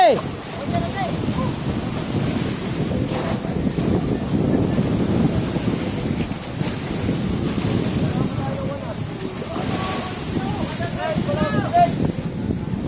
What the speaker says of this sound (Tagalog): malakas ang silig at malaki ang alon